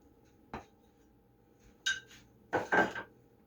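A butter dish and a pan handled in a home kitchen while cooking: a few separate clinks and clatters of crockery and metal, close and fairly quiet, with near silence between them.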